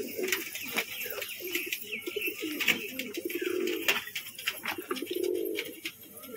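A setting pair of pigeons of the same colour coo in soft, rolling bursts close at hand, overlapping with scattered chirps from other birds nearby.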